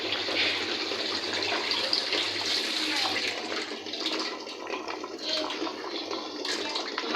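Raw meat being washed under running water from a tap in a home kitchen, a steady loud gush of water splashing, close and continuous with someone speaking over it.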